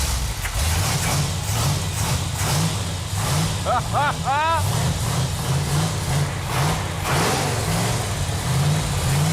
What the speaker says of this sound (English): It feels really good to hear that engine run.